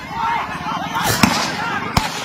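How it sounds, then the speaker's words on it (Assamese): Blank gunshots fired by a celebrating crowd outdoors in Goalpara, Paikan, two sharp cracks standing out over a continuous murmur of crowd noise and voices. "পাব্লিক সব ফায়াৰিং কৰি আছে, ফাঁকা গুলি মাৰি আছে"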